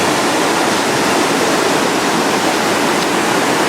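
A waterfall in Slovenia roars as a loud, continuous, unbroken wash of rushing water, close by and drowning out everything else.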